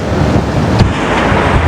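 Loud, steady wind buffeting the microphone while riding an Inmotion V13 electric unicycle outdoors, a dense rumbling roar with no talking over the short stretch.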